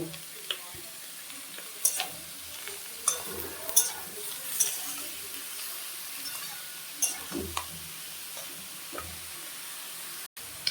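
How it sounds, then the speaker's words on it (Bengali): Eggplant pieces sizzle in hot oil in a pan being used for a katla fish curry, giving a soft, steady hiss with scattered crackles and a few clinking stirs, fairly quiet and close. "তো বন্ধুরা এখন আমি বেগুনগুলি দিয়ে দেব"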